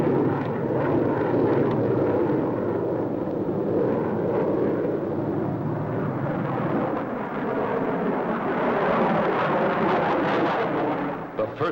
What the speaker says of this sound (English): Turbojet engines used in assisting takeoffs of our giant bombers are studied.